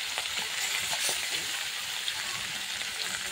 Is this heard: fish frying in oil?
yes